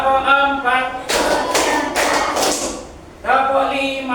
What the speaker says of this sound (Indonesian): Tepuk semangat, tepuk satu